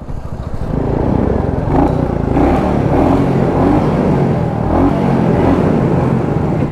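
A Classic 350 motorcycle exhaust thumps steadily at close range, holding a loud, even idle-to-low-rev drone with slight swells in intensity throughout, and no talking over it.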